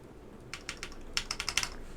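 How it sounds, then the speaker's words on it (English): Keys with GMK Dualshot keycaps clack on a mechanical keyboard being built, with a spacebar fitted on stabilizers, a quiet lull and then two quick close runs of crisp taps. "Stabilizers sound really nice."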